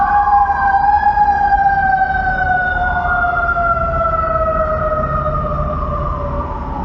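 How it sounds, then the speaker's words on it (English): Fire engine sirens wail loudly and continuously as they pass, their rising and falling tones sweeping and drifting in pitch over a steady traffic rumble, with no talking. "And we'll wait for the sirens to stop."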